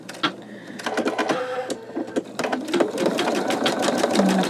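An embroidery machine stitches out a skull design in fast, steady bursts of needle clatter, loud and close, pausing briefly before resuming its rapid mechanical rhythm.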